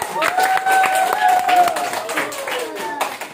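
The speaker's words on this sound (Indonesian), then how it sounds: "Tepuk tangan" Audience clapping at an Islamic religious lecture, a steady patter of many hands with a sustained tonal voice or whistle running over it through most of the burst.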